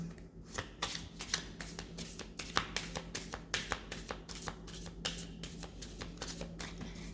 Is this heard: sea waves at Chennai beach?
no